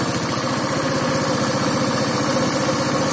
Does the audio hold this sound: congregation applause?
no